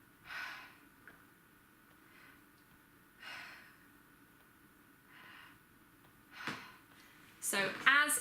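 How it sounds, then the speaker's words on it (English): Slow diaphragmatic breaths drawn in through the belly, a few soft airy breaths spaced a few seconds apart, close and quiet, with a brief voice at the end. "So as I breathe in,"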